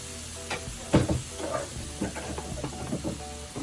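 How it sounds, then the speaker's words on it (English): Precooked shrimp and crawfish tails warming in a pan for étouffée give a low sizzle with scattered stirring clicks and a few sharp utensil knocks, close but fairly quiet. "now that we have our shrimp and crawfish in our pan, we're gonna let this cook through until it's warm"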